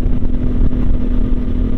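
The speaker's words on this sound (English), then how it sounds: "sitting here on the freeway at this speed, I am extremely, extremely happy with the performance of this bike" Honda Transalp 750 adventure motorcycle cruising at freeway speed, a loud steady engine drone mixed with heavy wind roar, constant and close with no talking.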